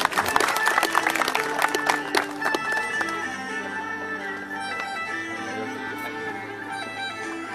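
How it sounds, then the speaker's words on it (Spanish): Audience applause at a secondary school graduation ceremony, a dense burst of clapping that starts loud and gradually thins and fades, with crowd murmur and a steady tonal hum underneath. "Démosle un fuerte aplauso."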